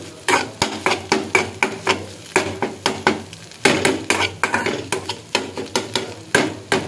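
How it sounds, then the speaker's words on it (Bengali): Egg frying on its own in a pan for chowmein, with rapid, regular spatula clacks and scrapes against the metal over a faint sizzle, close and fairly loud. "এখানে ডিমটা আলাদা করে ভেজে নিচ্ছি"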